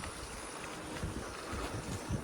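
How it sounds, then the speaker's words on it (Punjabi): A gentle early-morning wind blows outdoors, making a soft, continuous rushing with low gusty buffeting, and no voices. "ਮਿੱਠੀ ਮਿੱਠੀ ਹਵਾ ਚੱਲਦੀ ਪਈ ਆ"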